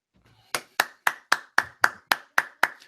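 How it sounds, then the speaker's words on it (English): A single person claps nine times in an even, steady rhythm. The sharp, dry claps are close and distinct, with quiet gaps between them, and no talk is heard. "I noticed only one of you is clapping"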